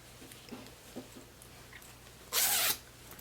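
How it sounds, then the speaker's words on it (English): A single quick pull opening a skirt zipper rasps loudly up close after a few soft taps and handling noises. "Open zipper."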